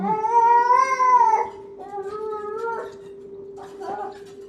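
A pet cat meows and yowls loudly in a drawn-out, wavering cry, then gives two shorter, quieter meows, close by over a steady low hum.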